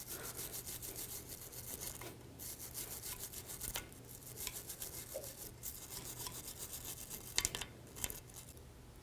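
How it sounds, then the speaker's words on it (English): A wire brush scrubs rust and debris off a front brake caliper bracket on a 2002-06 Chevy Avalanche, quiet rapid rasping strokes in an uneven rhythm, close by, with no talking. "Take a wire brush. Just clean this, clean any debris off,"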